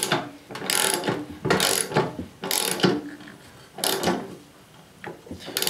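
A half-inch ratchet tightens a 15/16 hex jam nut on an older MTD riding mower spindle, giving bursts of rapid clicking in several separate strokes with short pauses between, close and clear.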